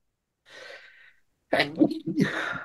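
A single close, loud sneeze bursts out after a short audible intake of breath, standing alone without speech around it.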